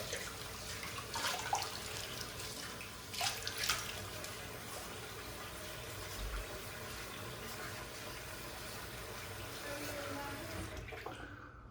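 A bathroom tap runs steadily to wet the face before a shave, a soft, continuous stream of water with a few faint splashes and bumps, fairly quiet and heard alone.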